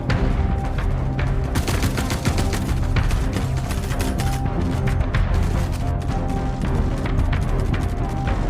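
Rapid, continuous gunfire from a Star Citizen raid mission in an underground facility, dense bursts of shots and impacts rattling nonstop, loud and close, with no talking.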